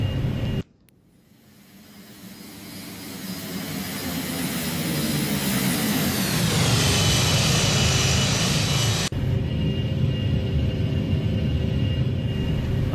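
The Gulfstream 550's jet engines spool up for takeoff in a flight simulator. A low roar builds steadily into a loud, sustained rumble and whine, with an abrupt shift in tone partway through and no talking.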